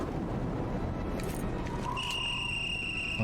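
A thin high whistle in the horror game Call of Cthulhu Dark Corners of the Earth, rising in and then holding steady over a constant low rumble and hiss in the second half.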